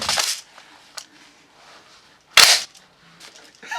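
A magazine snapping into a CYMA CM049 SD6 airsoft MP5: two sharp, close plastic-and-metal clacks, one at the start and a louder one midway, with a few faint ticks between.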